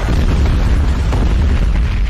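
A car blows up in the film The Mechanic: a loud, deep, sustained roaring blast fills the entire moment with dense low rumble and no pause.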